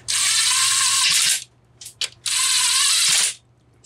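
Two long bursts of ratchet clicking as bolts are tightened on a Homelite 750 chainsaw during intake boot and carburetor service, close and loud, with short pauses and a few clicks between.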